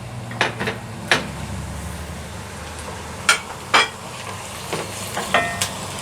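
Meat dropped onto onions in a pot sizzles softly underneath while a spoon scrapes and clinks against the pot in several sharp, separate strokes.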